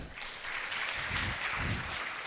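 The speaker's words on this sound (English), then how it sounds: "Clap for her." Applause from an audience at a national pharmacy conference session, a steady wash of clapping lasting a couple of seconds with faint voices underneath.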